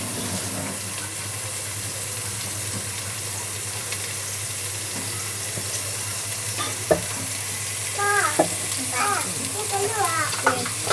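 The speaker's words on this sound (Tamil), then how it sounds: "இப்போ நல்லா வதக்கிக்கலாம்." Onions sauté in a pan for a chicken kulambu curry, with a constant loud sizzle throughout and a cluster of sharp clicks and scrapes from stirring near the end.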